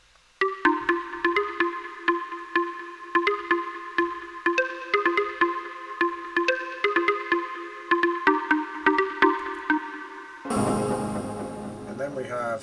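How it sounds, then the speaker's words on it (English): A Nexus plucked-instrument preset called Woody plays a top melody, a steady run of bright, woody plucked notes in a repeating pattern, close and clear, ending in a brief burst of a different texture. "Nexus plucked instrument called Woody"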